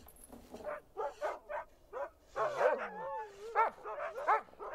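Dog barking and whimpering nearby, a string of short yips and barks mixed with high whining whimpers, fairly faint and with no speech.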